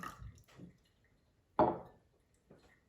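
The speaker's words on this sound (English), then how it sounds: "we'll just dump the water out" Brief splashes of preheating water being poured out of cups, with a sharper splash in the middle and a faint trickle afterward, quiet and close.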